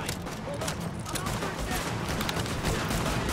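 Shotgun fire from the shooter game The Division comes as a dense, continuous clatter of blasts and impacts, loud and unbroken throughout the short stretch.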